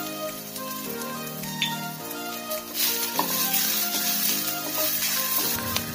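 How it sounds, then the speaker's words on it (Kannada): Drumstick flowers frying in a pan with turmeric, a steady close sizzle with crackling pops that grows busier partway through, no talk. "ನುಗ್ಗೆ ಹೂವು ಇಲ್ಲಿ ಕಲರ್ ಚೇಂಜ್ ಆಗೋರು ಹುರ್ಕೋಬೇಕು"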